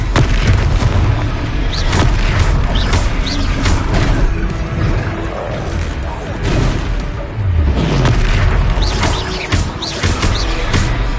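Confringo blasting spells explode repeatedly in the Hogwarts Legacy video game, loud booming blasts layered over dense, continuous combat noise and music, with a voice shouting spell names throughout.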